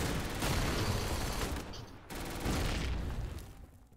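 Dense gunfire fills a Winter War multiplayer battle, a loud continuous barrage of overlapping shots that dips briefly partway through before surging again, with no clear talk over it.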